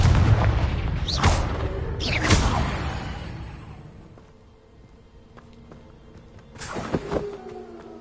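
Confringo blasting spell explosions in Hogwarts Legacy: two loud whooshing bursts in quick succession with rumbling decay, a quieter stretch of faint mechanical clicks, then another booming blast near the end.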